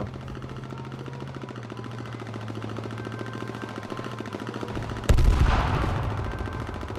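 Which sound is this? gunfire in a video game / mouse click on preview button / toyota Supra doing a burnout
gunfire in a video game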